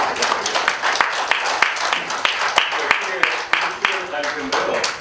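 Applause from a seminar audience for a professor at a policy institute event on the comfort women issue in US politics: dense, steady clapping throughout with sharp individual claps standing out, fairly close.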